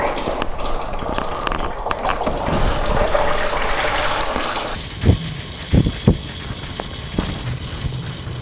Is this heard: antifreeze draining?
yes